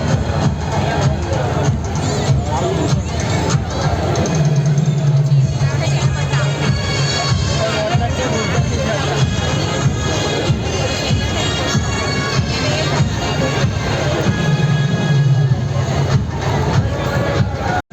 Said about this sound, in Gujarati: ભીડ બહુ જ છે.